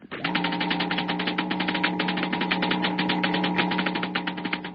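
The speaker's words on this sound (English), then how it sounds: "The crackling comes from a model atom smasher," Dense, rapid crackling pulses from a model atom smasher over a steady electrical hum, continuous and loud for several seconds without pause.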